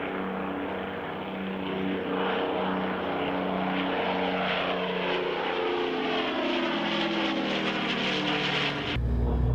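An Avro Lancaster bomber flying past at a British airshow, a loud throbbing multi-engine piston drone that swells, holds and shifts in pitch as it passes, ending with a sudden low thump.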